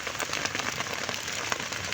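Rain pours down on a chili pepper farm at harvest time, a dense, even hiss of drops striking the surface with no voices.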